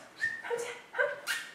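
A dog barks and yips in several short, bright bursts, close by, with whimpery high tones between them and no talking.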